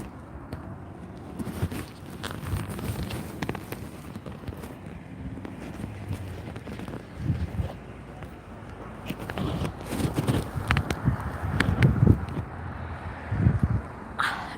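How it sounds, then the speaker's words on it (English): Wind picking up outdoors on a wintry day, a steady rumbling buffet against the microphone that gusts louder toward the end, with occasional rustles and thumps. "so the wind is picking up."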